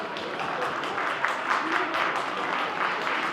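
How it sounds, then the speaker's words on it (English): A crowd at an Onam 2024 celebration held by Utah Malayalees gives a dense, sustained round of applause that stays fairly loud throughout, with faint voices mixed in. "we welcome you to give a round of applause to Mr. Madhu Chengar"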